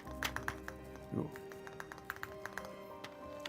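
Clicky keystrokes come from a Corsair MAKR 75 mechanical keyboard with linear MX-style switches, tapped in a loose, irregular rhythm at close range, fairly quiet, with a brief low thump partway through.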